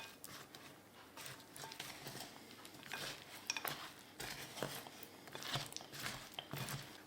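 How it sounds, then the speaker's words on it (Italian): Syrup heated to 121 degrees poured slowly into a mixture while it is stirred, giving continuous scraping and clinking of a utensil against a bowl, close and steady, with no speech. "Lo verso piano piano mescolando il tutto."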